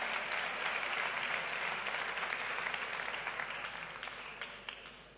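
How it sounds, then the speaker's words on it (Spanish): Applause fills the hall at a blog awards ceremony, thick at first, then gradually thinning as individual claps stand out before it fades toward the end. "Y Dermapixel, un fuerte aplauso también,"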